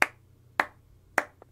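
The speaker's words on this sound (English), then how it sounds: "clap 3 times" Three sharp, evenly spaced claps ring out clearly, followed by a fainter fourth tap, with no talking.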